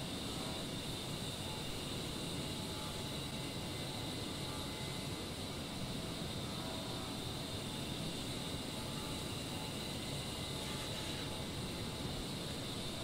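Steady broadband roar of an A-10 Warthog jet in the DCS combat flight simulator just after takeoff with the gear raised, a constant engine rush and airflow hiss with no breaks.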